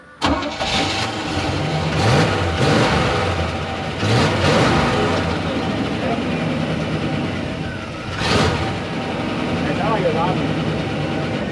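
A 1990 Chevrolet Cheyenne 2500 truck engine runs after sitting for 13 years, a loud, close rough idle with surges and bursts of revving. People talk over it.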